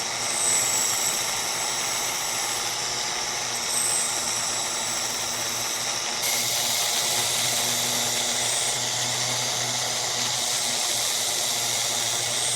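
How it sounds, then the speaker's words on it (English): An electric knife sharpener whines steadily as a knife is polished on its fine-grit smoother sandpaper side, a loud, close, continuous high grinding hum with slight shifts in pitch. "I'm gonna go ahead and just polish up the knife here with that smoother side"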